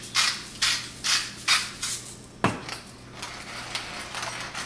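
A hand pepper mill cranks pepper over a steak in a pan: a run of about six evenly spaced crunchy grinding bursts, then a sharp clack and a few softer, quicker grinds close up.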